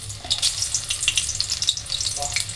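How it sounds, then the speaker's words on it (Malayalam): Spinach bhujia deep-frying in hot mustard oil, with a busy crackling sizzle and bursts of bubbling as pieces are stirred, close and steady, no talk. "കടുവെണ്ണയാണ്, നമ്മളതൊഴിച്ച് വറുത്ത് കോരിയെടുക്കാം"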